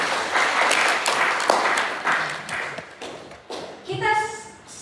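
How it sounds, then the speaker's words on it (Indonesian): Audience at an academic lecture claps together at the presenter's request, a burst of close applause that thins into scattered claps, followed by a brief voice at the end. "tepuk tangan dulu ya"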